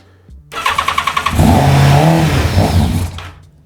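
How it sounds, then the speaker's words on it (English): A Yamaha FZR 1000 motorcycle engine cranks with a rapid rhythmic starter chatter, then fires up loudly and runs roughly close by before dying away after a couple of seconds. "It just fired up, and it properly fired, so it has spark."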